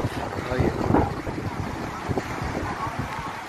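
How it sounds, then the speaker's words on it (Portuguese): Strong wind buffets the microphone while a heavy sea surges and roars during a cyclone storm swell on the south coast of Florianópolis island. The noise stays continuous and rough throughout, with gusts rising and falling. "Tá uma onda grande"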